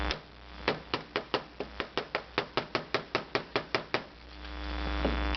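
A big hammer pounds a stuck car glove box in about sixteen rapid, evenly spaced metallic blows, loud and close, with no talking.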